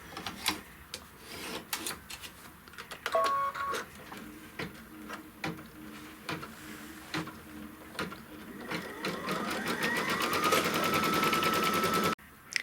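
A computerized embroidery machine stitches a circular tack-down line on fabric, a rapid mechanical chatter of needle strokes with small clicks and pauses, rising into a faster, denser run toward the end before stopping abruptly.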